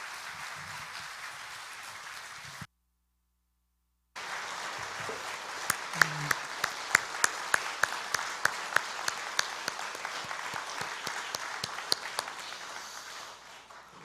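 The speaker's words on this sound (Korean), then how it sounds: "여러분 인사하실 때 큰 박수로 축복해 주시길" Congregation applauding at a Sunday church worship service, a steady wash of many hands that cuts out briefly near the start, then resumes with sharper individual claps standing out toward the end.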